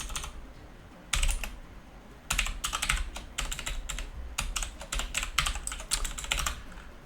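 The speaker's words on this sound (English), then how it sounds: "Oh, John, hitting too many keys." Bursts of rapid typing on a computer keyboard during a 6502 retro game coding tutorial, clattering keystrokes in several clusters separated by short pauses, close and fairly loud over a low background hum, with no talking.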